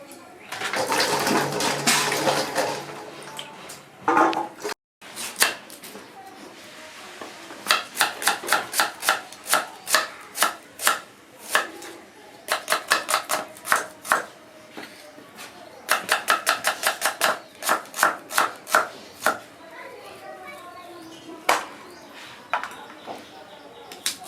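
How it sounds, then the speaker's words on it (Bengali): Onions being cut with a knife in a home kitchen, bursts of rapid crisp chops on a board in quick rhythmic runs, preceded by a stretch of running water and separated by short pauses. "পেঁয়াজগুলো আগে ধুয়ে কেটে নেবো"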